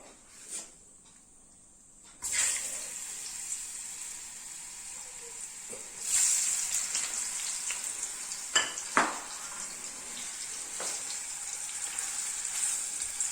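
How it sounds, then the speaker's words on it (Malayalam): Fish frying in coconut oil over a medium flame, a steady close sizzle that swells sharply after a quiet start, with occasional clinks and stirring bumps and no talk. "വെളിച്ചെണ്ണ ഒഴിച്ചിട്ട് മീൻ ഇട്ട് കൊടുക്കുക."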